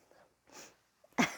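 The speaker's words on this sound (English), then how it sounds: "I have to sneeze" A single sharp sneeze bursts out near the end, preceded by a couple of quick breathy inhales, close and fairly loud.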